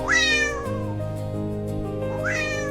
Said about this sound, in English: drawn by faint meows beyond his door.